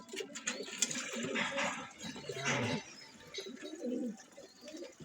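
Pigeons coo close by in soft, throaty, repeated rolls that overlap one another, with a few brief higher chirps mixed in; no one speaks.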